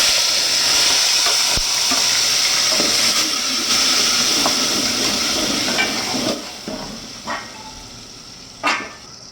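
Tomatoes hit hot oil with mustard seeds, cumin and asafoetida, setting off a loud continuous sizzle that gradually settles, broken by a few sharp clinks of a utensil against the pan.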